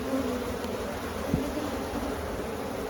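Honey bees buzz densely during an open hive inspection of a broodless, jumpy colony. The drone is continuous and close, with a single soft knock partway through.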